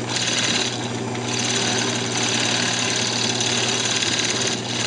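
A wood lathe turns down the diameter of a Christmas ornament, giving a continuous loud mechanical whir and hum with a rough scraping texture from the tool, steady throughout with no voices.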